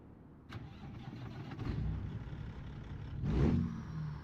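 Truck engine in American Truck Simulator cranking over and settling into a steady stock idle, a low rumbling drone with a brief surge of revving partway through, heard up close with no talk.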